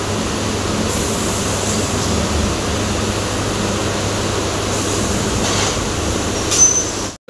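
A train rolls slowly between Howrah and Belur Math, a steady low rumble of wheels on track with faint squealing bursts, heard from inside at moderate loudness.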